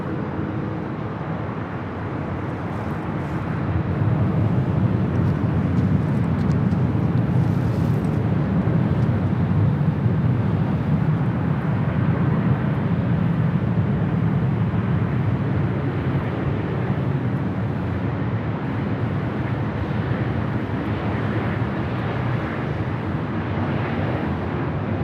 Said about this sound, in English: Southwest Airlines Flight 1651, flight coming in from Denver, 737-800 is our next arrival here on the north side.